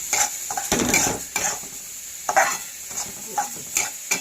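Food is stirred and roasted in a pan, with a close, steady run of scraping and clinking as a utensil moves through it over a soft sizzle, broken by brief pauses and no talk.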